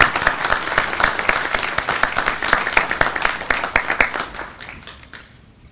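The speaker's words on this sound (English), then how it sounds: "So let's give a round of applause for all of those who participated." Hearty applause from the audience at a Ph.D. hooding ceremony, many hands clapping quickly and loudly, then tapering off and fading out over the last second.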